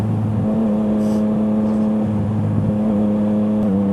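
A Yamaha MT-09 (FZ-09) motorcycle fitted with an Akrapovič exhaust accelerates, its engine droning loud and close with pitch steps as the throttle opens and gears change, recorded from the rider's position.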